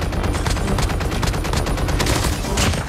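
Dense, loud gunfire from Call of Duty Mobile battle royale gameplay, rapid continuous shots packed tightly together like a fusillade throughout, with no one speaking.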